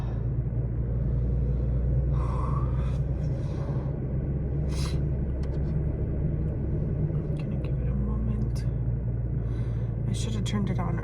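A truck engine idles on a cold day while warming up, a steady low rumble running throughout, close and continuous, with a few faint higher clicks and rustles over it.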